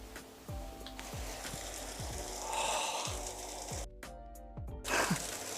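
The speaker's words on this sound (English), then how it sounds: "It's sizzling." Tomatoes roasting on a hot oven tray give a steady crackling sizzle, with a regular ticking pulse running underneath and a brief dip midway before the hiss returns.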